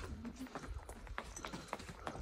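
Horse hooves clip-clop at a slow riding pace on a tour in Jordan, an uneven run of close hoof strikes with faint voices in the background.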